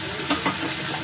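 Mixed vegetables frying in a pan, giving a brief, dense, even sizzle with a couple of soft stirring scrapes.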